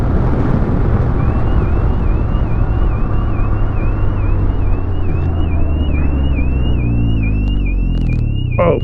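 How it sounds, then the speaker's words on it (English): A Can-Am Ryker 900 alarm whoops repeatedly in a steady rising-and-falling pattern over loud wind and engine rumble during a night ride, continuing throughout. "My alarm started going off."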